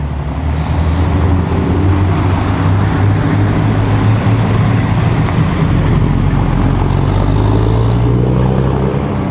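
Loud, continuous engine roar from an Italian Jaguar followed closely by a Ferrari racing along a Mille Miglia road course, the deep rumble holding steady at close range with slight pitch shifts as the two cars pass.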